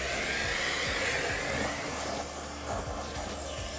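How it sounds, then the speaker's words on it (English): A vacuum cleaner sucking willow seed out of leaves and debris, a continuous close whirring roar with faint rattles of material drawn into the nozzle. "our next stage in the process is getting the hoover out and sifting out the seed from all the leaves and the"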